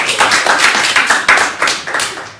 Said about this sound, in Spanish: Correcto, muy bien, un aplauso